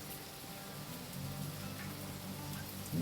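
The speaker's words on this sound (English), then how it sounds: "Really, really raining." Steady rain falling on a sailboat, a soft continuous hiss of drops on surfaces with no voices, even in loudness throughout.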